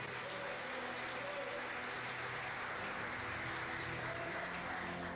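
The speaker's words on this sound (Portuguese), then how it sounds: "Vamos aplaudir o Senhor, amém?" A church congregation applauds together during a worship service, a steady broad wash of clapping running through the whole span with some voices mixed in.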